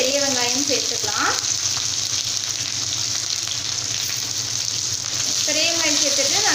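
Mustard seeds spluttering and popping in hot oil in a pan while cooking a Tamil spicy potato curry, a steady loud sizzle with crackling bursts throughout, a brief voice at the start and end.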